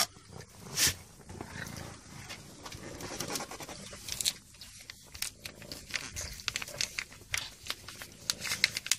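A mother cat purring close up, a steady low rumbling purr with soft crackly rustling and small taps throughout.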